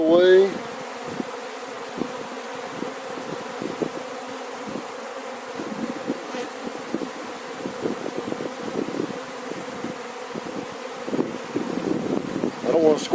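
Bees buzzing steadily during a beehive check, a close droning hum with individual insects passing near the microphone over light wind noise.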